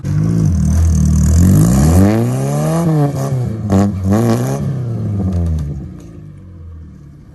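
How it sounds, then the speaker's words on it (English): A pickup truck engine labours while towing a load uphill: a loud, close drone that climbs in pitch through repeated revs and gear shifts, then fades away toward the end. "This truck right here ain't got no problem towing stuff up a hill."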